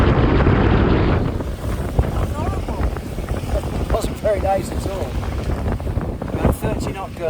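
Sailboat pounding through rough two-metre waves in a Mistral off the Sardinian coast, loud rushing water and heavy wind buffeting the microphone throughout, with voices and clattering bursts breaking through.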